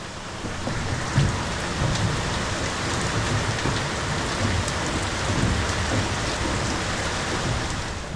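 Steady rain pours and patters on surfaces, a dense continuous hiss with scattered heavier drops, no voices.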